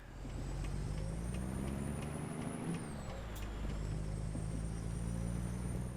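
Heavy truck engine hauling a load in a truck-driving video game, a loud constant diesel drone with a low rumbling throb and a high whine that dips briefly partway through.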